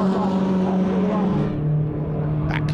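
MINI Challenge race cars fighting for position in the club class, engines droning loud and close as they pass, with a shifting engine note near the end.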